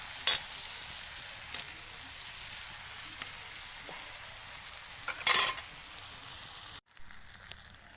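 Red lentils and onion frying on a tawa with tomato, turmeric, salt and plenty of green chilli, a steady close sizzle throughout with a few louder stirring scrapes and a brief break near the end.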